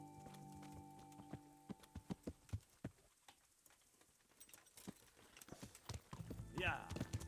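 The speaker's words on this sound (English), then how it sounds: "Horsey, let's bring the horsey up." Horse hooves in the video game Kingdom Come: Deliverance, an irregular series of soft clip-clop thuds at moderate distance, picking up into a brief faster patter near the end, with a voice briefly heard.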